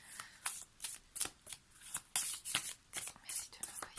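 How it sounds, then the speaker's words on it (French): Tarot cards are gathered up from the floor, giving a close, quiet run of papery flicks and rustles that come in short irregular bursts without talk. "J'ai beaucoup trop de cartes qui viennent de tomber au sol. Voilà, le temps de les ramasser."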